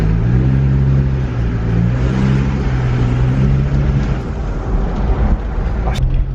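A Mitsubishi Pajero Fieldmaster with an upgraded air intake and its cover removed revs steadily close by, a broad turbo rush and engine drone rising and falling throughout, with a brief sharp whistle near the end.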